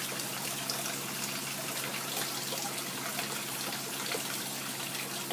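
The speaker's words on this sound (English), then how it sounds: "It drains through the little drain pipe down there. It comes all the way around and into my sump tank." Water drains steadily through a small drain pipe into the sump tank of a home aquaponic fish system, a constant trickling gush that stays even throughout with no voices.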